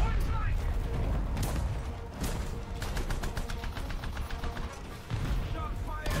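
Tank cannon and machine-gun fire in War Thunder from a 1979 South African tank, with a string of rapid bursts and repeated sharp shots mixed with engine rumble, plus a heavier blast near the start.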